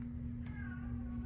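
A pet cat named Zaz cries indoors with a single drawn-out meow, faint and slightly distant over a steady low electrical hum.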